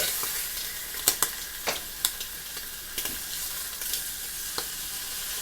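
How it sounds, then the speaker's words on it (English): A breakfast with hash browns fries in an electric skillet, giving a continuous hissing sizzle broken by sharp, irregular splatter pops. "You see it's splattering some."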